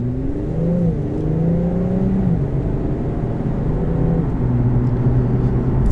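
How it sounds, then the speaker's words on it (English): A 2020 Infiniti Q50 Red Sport with a 3-liter twin-turbo V6 and seven-speed automatic pulls hard from inside the cabin, engine drone rising and dropping through quick gear changes under steady road rumble, with no talking. "So you can tell there, the 7-speed shifts quick."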